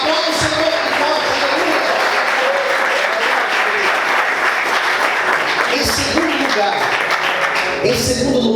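Church congregation applauding during a Portuguese-language sermon, a dense, steady wash of clapping that lasts throughout, with voices and shouts mixed into the crowd.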